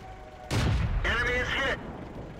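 A single loud cannon blast from a T14 Tier V heavy tank in the World of Tanks video game bursts out sharply, followed by a short stretch of voice-like sound.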